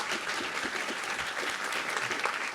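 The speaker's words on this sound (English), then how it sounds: "First round of applause for them as well." Steady audience applause fills a TwitchCon 2024 panel hall, dense clapping from a large crowd holding at an even level for a couple of seconds with no talk over it.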